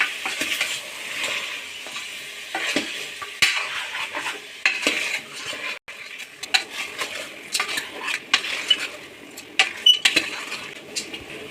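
Country chicken is stirred and fried in a cooker, with a spoon repeatedly scraping and clanking against the metal over a continuous close sizzle and no voices.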